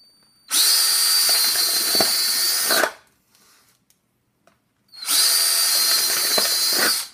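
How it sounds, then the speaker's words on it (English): Two long bursts of a power drill whining at full speed drilling through plastic solo cups, each lasting a couple of seconds, separated by a short quiet pause with faint rustling. "As long as your drill bit goes all the way through, should be good."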